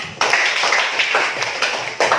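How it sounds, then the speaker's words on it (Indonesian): Clapping from a classroom group welcoming a student team about to present, a dense burst of many hands starting abruptly and continuing steadily at close range. "Kita beri tepuk tangan biar mereka semangat"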